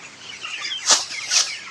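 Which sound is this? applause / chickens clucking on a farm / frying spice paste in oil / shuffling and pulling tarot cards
chickens clucking on a farm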